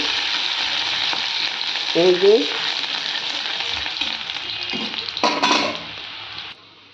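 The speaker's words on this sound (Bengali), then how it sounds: "পেঁয়াজটাকে একটু ভাজা ভাজা করে নিই।" Onions frying in oil in a pan, a steady loud sizzle with brief stirring scrapes and clatter partway through, then the sizzle drops off near the end.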